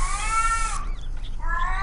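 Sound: cats meowing in the video game Caged Fear - Erie

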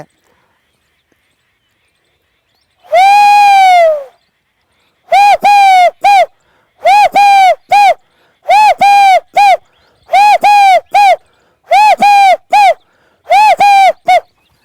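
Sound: bird call

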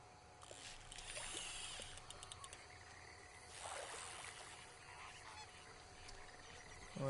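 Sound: ducks in Red Dead Redemption 2 video game

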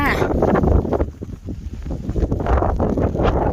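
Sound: wind blowing

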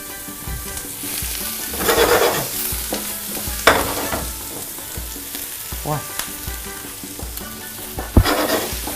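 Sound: vegetables frying in hot pan

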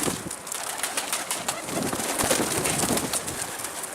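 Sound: pigeons flying

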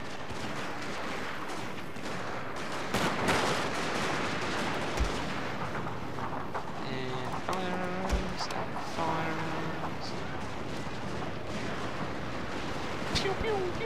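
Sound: infantry gunfire in Shogun 2: Total War Fall of the Samurai video game

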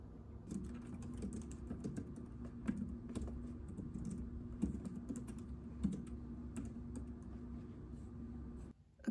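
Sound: typing on a new Logitech computer keyboard

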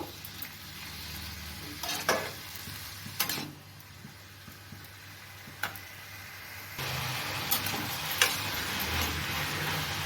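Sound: stirring cucumber curry in a pan

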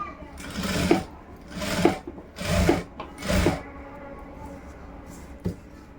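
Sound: sewing machine stitching a blouse neckline

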